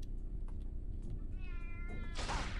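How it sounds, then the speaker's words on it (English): A cat meows in the PC video game Shogo: a single drawn-out, wavering meow rises over steady game ambience and ends in a brighter, noisier cry near the close. "Oh, I hear the cat."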